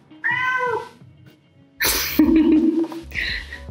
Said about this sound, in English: a cat meowing